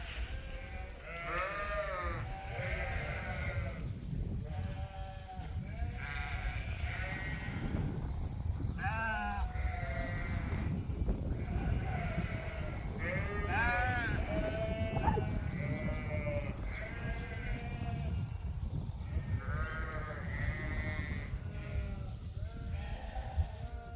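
A flock of sheep on a farm on a breezy, cool day, bleating again and again in overlapping calls from near and far over steady wind noise.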